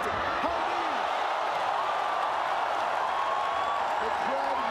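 Arena crowd at a ONE Championship MMA bout featuring Kevin Belingon, a dense, steady roar of many voices that holds loud and unbroken throughout, with a few sharp slaps or thuds near the start and end.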